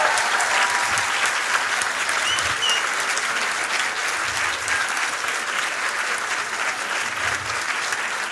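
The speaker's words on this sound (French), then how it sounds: "Merci encore de les applaudir." An audience at a DEUST 2024 diploma ceremony applauds the teaching teams of two apprentice training centres, a steady, dense round of clapping that stays loud throughout.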